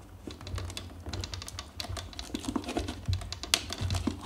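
Plastic piece being cut out of a toy Bruder Jeep RC chassis with pliers, a quick series of close, sharp clicks and snips in an irregular rhythm, no talking.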